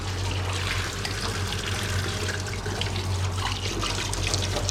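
Tap water runs continuously into a sink while a new tea cup is washed, a loud, steady splashing hiss with no talk over it.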